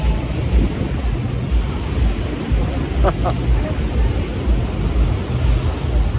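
Surf washing onto Candolim beach in Goa, a steady broadband roar of breaking waves with wind, continuous and fairly loud throughout, with a couple of brief faint tonal chirps in the middle.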